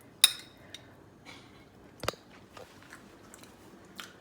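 Soft, close chewing of chilli chicken with naan bread, with a sharp crunch or spoon click early and a louder bite midway, scattered mouth sounds in a quiet room.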